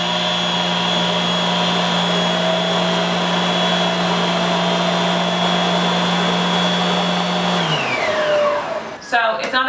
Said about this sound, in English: So it's not a super loud vacuum in any way